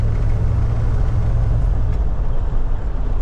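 Lifted, short-wheelbase 1966 Ford Bronco pick-up 4x4 on the move, a loud continuous low engine drone and road rumble heard from inside, with a slight dip near the end and no voices.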